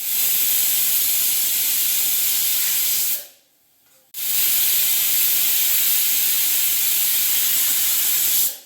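Pressure cooker whistle releasing steam while cooking tomato rice, a loud, harsh, continuous hiss that cuts out briefly for about a second, then resumes just as strong, with no talk.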